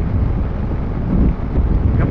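Steady, heavy wind rushing over the microphone while riding a Bajaj Dominar 400 motorcycle, a loud low roar that swells slightly midway, as if moving at speed.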